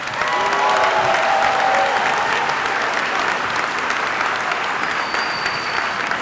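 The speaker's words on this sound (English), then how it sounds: "Can we give them a round of applause?" Sustained applause fills a commencement ceremony hall for the planning team, steady and dense throughout with faint cheering mixed in and a brief whistle-like tone near the end.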